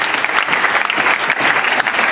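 A church congregation applauds together during worship, a dense, continuous clapping close and loud throughout with no voices standing out.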